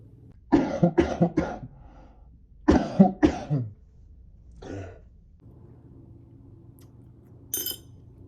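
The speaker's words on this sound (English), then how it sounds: "Hold on, I need a cough." A short burst of coughs, two clusters of harsh coughs close together, followed by a throat clear and quiet room noise.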